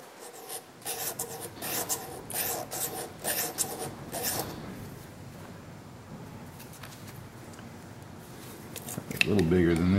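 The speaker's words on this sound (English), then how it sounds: "I'm going to hone a little radius on that tip." A diamond lap hone rasps across the tip of a single-point cast iron boring tool, putting a radius on it: repeated scratchy strokes for several seconds, then quieter scraping.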